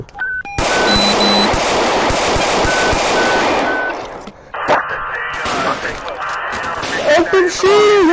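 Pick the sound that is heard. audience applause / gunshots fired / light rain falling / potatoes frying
gunshots fired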